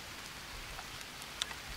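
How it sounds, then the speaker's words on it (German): Steady rain pours down in the survival game Green Hell, a soft, even hiss of drops with a faint patter and one brief sharper tick near the end, no voices. "Draußen regnet es nämlich"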